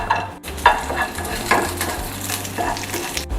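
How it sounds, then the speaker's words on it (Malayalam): Raisins frying in ghee in a pan for walnut laddu, a close steady sizzle with scraping stir strokes and faint utensil clinks throughout, no voices. "ഇനി നമുക്ക് ചെടുവിലേക്കുള്ള കിസ്മിസ് ഒന്ന് വറുത്തെടുക്കണം അതിന് വേണ്ടിയിട്ടൊരു അര ടീസ്പൂൺ നെയ്യ് ഒഴിച്ചു കൊടുക്കാം"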